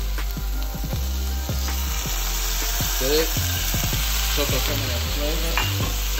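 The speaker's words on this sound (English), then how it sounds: "we added the vegetables into the pan just to kind of saute" Vegetables sauté in a hot pan with a loud, steady sizzle, punctuated by repeated scraping stirs and utensil clinks throughout, close up and without talk.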